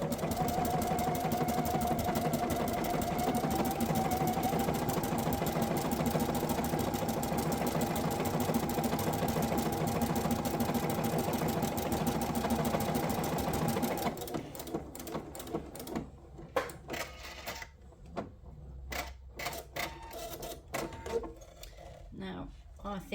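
A sewing machine stitching Lutradur fabric for a lantern runs in a steady, close whirring drone for about fourteen seconds, then stops and leaves scattered clicks and handling noises.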